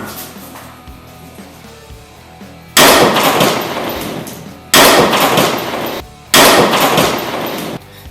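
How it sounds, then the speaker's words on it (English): A brick smashed by the demolition hammer end of the Annihilator tool: three loud, sharp impacts spaced a couple of seconds apart, each followed by a burst of crumbling debris, after a quiet start. "using the demolition hammer end of our Annihilator tool here, it just destroyed that brick"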